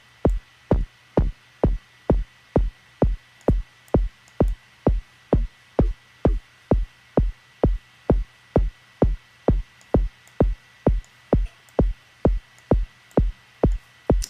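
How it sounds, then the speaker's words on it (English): Synthesized kick drum with white noise, built in Ableton Live, thumping alone in a steady even pulse of about two hits per second, each a punchy low boom with a short noisy tail. "So here's our kick drum."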